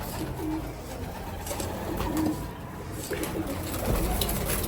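Pigeons coo in soft, low, repeated throaty calls at close range inside a loft, with a few overlapping murmurs against a steady background of rustling and ambient noise.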